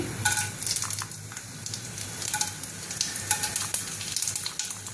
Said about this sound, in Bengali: বাটার দিয়ে আমি মশলাটাকে ফ্রাই করব।